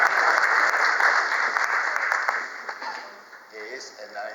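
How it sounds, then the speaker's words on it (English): A lecture audience claps steadily at first, the dense applause thinning and fading over the last seconds as a voice begins speaking beneath it. "but a round of applause for the losing boxer."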